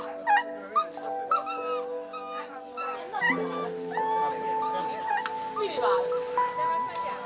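Several rescued dogs from a Hungarian puppy-mill site whimper, yip and bark in overlapping bursts, loud and close, with people talking in the background throughout.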